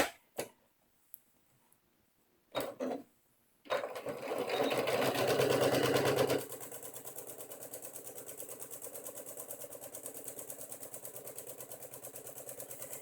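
A sewing machine runs steadily, stitching fabric strips for a log cabin quilt block a quarter inch from the edge. It opens with a few brief knocks, then hums loudly for a few seconds before settling into a quieter, even whir that continues to the end.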